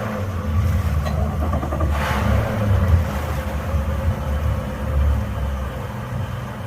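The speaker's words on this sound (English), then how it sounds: "Alright, so let's fire the motors up." Outboard motors on a Grady White 236 boat starting up and running, a loud, steady low engine rumble with a brief rise in revs near the start, close by and without talk.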